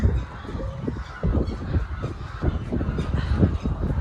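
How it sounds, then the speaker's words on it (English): Chickens on a poultry farm give repeated honking, clucking calls in an irregular rhythm over a low background murmur, with no talking. "There's more chickens upstairs."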